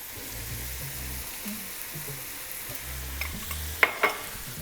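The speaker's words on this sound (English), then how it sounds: "You want to stir this around." Flour is stirred into pan drippings to thicken gravy for smothered burritos, with a spoon scraping in repeated low strokes over a soft sizzle and a couple of sharper clinks toward the end.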